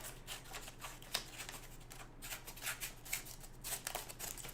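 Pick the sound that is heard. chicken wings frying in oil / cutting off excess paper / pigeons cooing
cutting off excess paper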